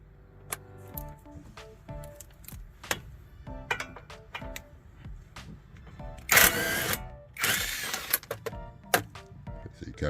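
A power tool works loose the bolts on a Toyota wheel hub during a bearing replacement, giving a few loud, rough bursts of buzzing rattle amid clicks and clanks of other tools.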